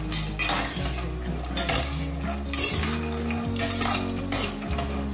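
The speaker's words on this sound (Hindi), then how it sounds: "और इन मूंगफली को हम भून लेंगे।" Peanuts roast in ghee in a pan with a soft sizzle, while a utensil stirs and scrapes against the metal in repeated bursts and rattles; the sound is close and fairly quiet, with no talking.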